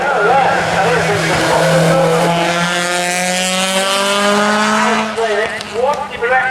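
Ford Escort Mk1 rally car on a gravel spectator stage, its engine loud and close with a rising, high-revving note, then easing off as it slides past, with tire noise over the top.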